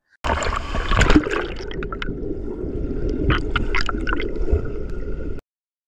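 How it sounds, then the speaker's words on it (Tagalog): Strong water pours at a waterfall in Pangasinan, a loud, close, continuous rush broken by gurgles and splashes. "Pagdating mo sa mismong falls, grabe malakas talaga ang tubig."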